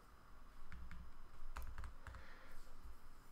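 Typing on a computer keyboard, a short burst of several quick clustered key clicks at close range, fairly quiet, with irregular rhythm and no talking.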